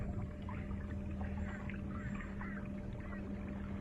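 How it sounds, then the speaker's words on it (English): Hobie Revo kayak gliding along the upper Brisbane River under a small 24lb electric motor on low, a steady hum with water swishing against the hull and breeze noise, continuous and close. "Just got the little motor on low setting, using the rudder for the kayak rather than the motor."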